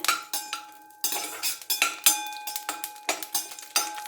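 Cashews stirred in a metal pan for a tomato sweet, a rhythmic series of close, bright clinks and scrapes of a utensil against the pan, repeating every half second or so.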